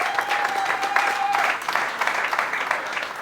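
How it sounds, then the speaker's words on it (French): A church congregation claps to welcome an apostle standing before them, moderate applause with a thin tone sounding briefly near the start and audible voices mixed in. "l'accueillons avec vos applaudissements"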